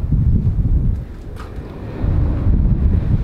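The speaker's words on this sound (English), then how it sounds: "That wind sounds amazing." Strong wind buffeting outdoors on the shingle at Dungeness, a steady loud low rumble of gusts against the microphone that dips briefly in the middle and then surges back.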